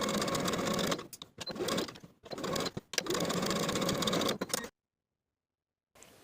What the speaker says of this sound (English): We're going to sew together along the long edges and the pointed edge with a 1/2 inch seam allowance